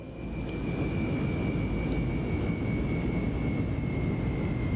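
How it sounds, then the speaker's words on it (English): The engines of a NAMC YS-11 turboprop airliner in Microsoft Flight Simulator 2024 run down after shutdown, a loud, steady broadband rumble with a sustained whine, fairly close. "Engines are shutting down."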